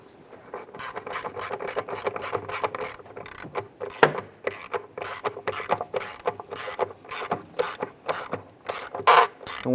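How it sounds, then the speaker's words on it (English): A ratchet snugs down fuel injector bolts on a 2002-2008 Dodge RAM, quick repeated clicking strokes in uneven bursts, close and clear with no talk. "Go ahead and snug these bolts down."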